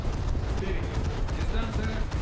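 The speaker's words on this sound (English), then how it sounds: "My secondary guns are firing upon a coastal vessel." Secondary guns on a World of Warships vessel firing at a coastal ship, dense rumbling booms layered together in a continuous roar, loud and close.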